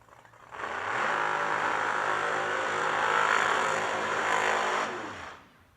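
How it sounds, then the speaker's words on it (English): A 959 cubic inch nitrous drag racing engine idles at a drag racing event, a loud, steady, crisp rumble that holds for about four seconds before fading out. "Gonna back up probably the 959 cubic inches here. Has a nice little crisp idle to it there."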